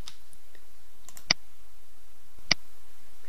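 Two sharp, close computer mouse clicks about a second apart, set against a quiet, faint background.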